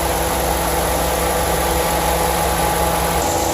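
RAM 2500 pickup's 6.4-liter V8 HEMI gas engine idling close by, a steady, even rumble with a constant hiss, no voices over it.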